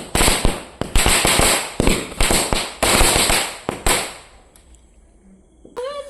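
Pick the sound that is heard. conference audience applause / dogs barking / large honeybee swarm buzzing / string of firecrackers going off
string of firecrackers going off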